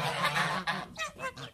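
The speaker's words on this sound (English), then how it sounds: "A goose." A goose honks several times in quick succession, loud and near, with a brief pause between the first long blare and the shorter calls that follow.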